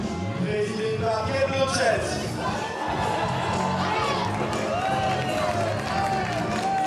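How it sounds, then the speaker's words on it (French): Members of the Cannes Film Festival jury and the surrounding crowd applaud on the red carpet, a busy outdoor din of clapping, cheering and murmuring voices heard from a moderate distance, with a commentator talking over it. "Kate Blanchett, applauded by the other members of the jury."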